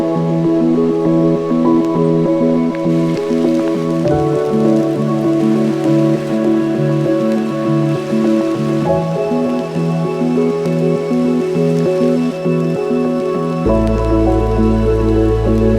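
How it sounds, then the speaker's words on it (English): Steady rain falls on a foggy lake, a continuous dense patter of drops that holds even for the whole stretch, with a sustained tonal hum running beneath and no voices. "You can see the rain is coming down."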